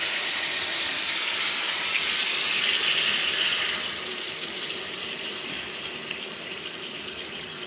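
Water poured bit by bit into a mixed vegetable curry, a steady, loud gushing pour that runs the whole time and eases slightly partway through, with no talking.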